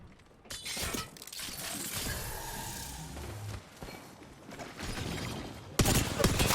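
Gunfire in a competitive Apex Legends battle royale match, rapid crackling bursts of shots layered over a busy, dense game soundscape with no talk.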